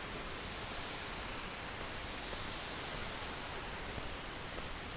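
A waterfall near Kynrem waterfall on an overcast day produces a steady, faint, unbroken rush of falling water with no other sounds.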